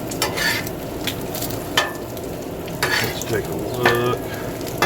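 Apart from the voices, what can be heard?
bacon searing on a Blackstone griddle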